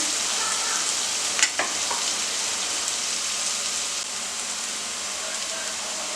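Small green chilies sautéing in a pan for gobi manchurian give off a loud, steady sizzle throughout, with a couple of quick stirring scrapes early on.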